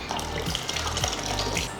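Water pours steadily into a pot of cooked dal for tomato dal, a soft continuous splashing stream with faint low thuds, quiet and close.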